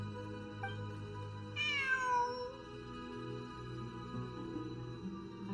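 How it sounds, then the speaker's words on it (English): A cat meows in a video game story quest, one clear rising-and-falling cry standing out over a steady layer of game music, with no talking. "It really is a cat."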